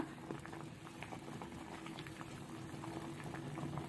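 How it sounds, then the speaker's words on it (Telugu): Soft, continuous bubbling of papaya pieces boiling in a pot, with faint popping, steady and fairly quiet. "ఇప్పుడు మనము ఇవి సగానికి ఉడికే వరకు ఉడికించుకోవాలి చూడండి ఉడుకుతా ఉన్నాయి కదా"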